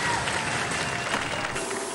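Studio audience applauding on the robot combat show Robot Wars: a short, dense, steady wash of clapping that stays fairly loud and even for about two seconds.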